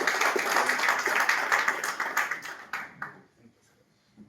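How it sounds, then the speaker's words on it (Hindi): Lively clapping from an audience welcoming a director at a meeting, dense and energetic at first, then thinning into scattered claps and fading out near the end. "जोरदार तालियों से स्वागत करें एक बार"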